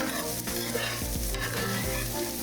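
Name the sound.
stirring food sizzling in a pan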